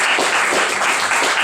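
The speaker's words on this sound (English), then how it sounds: "Can you guys give them applause one more time?" Loud audience applause at a local history presentation on Courage Kenny and the Rotary polio eradication effort, close, dense clapping with a slight pulsing texture across a short burst.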